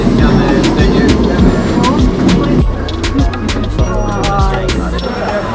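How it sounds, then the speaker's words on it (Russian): A tram ride through Lisbon, with a steady low rumble and rattling, clattering wheels on the rails, loud and close throughout with a brief dip midway. "нам прокатиться на лиссабонском трамвайчике на одного человека"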